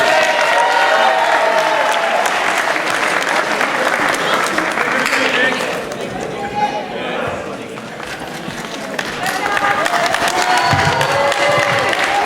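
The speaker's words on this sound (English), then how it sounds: "Please give him a round of applause" Wedding reception guests applaud and cheer for the best man, a loud sustained roar of clapping and whoops that dips briefly midway before swelling again, with chatter mixed in.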